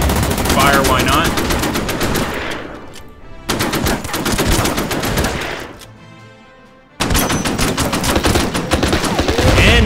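Loud sustained machine-gun fire in the strategy video game Order of Battle: Burma Road, dense rattling bursts broken by a brief pause and a quiet gap before firing resumes.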